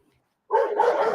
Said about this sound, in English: I got to get a dog. He's barking.